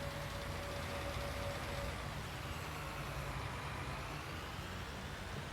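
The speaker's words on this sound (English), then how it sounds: "I think this tractor is struggling a little bit to get up here though." A tractor engine in a farming video game labors up a slope, a continuous low rumbling hum with a faint whine, steady and unbroken throughout.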